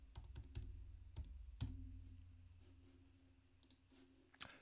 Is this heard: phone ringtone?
no